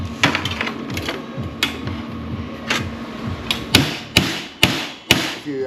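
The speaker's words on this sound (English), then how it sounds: "If you hit on the weld," A hammer strikes a MIG weld on metal to flatten it, a series of sharp, loud, close ringing blows that come sparsely at first and then more regularly toward the end, with no talking.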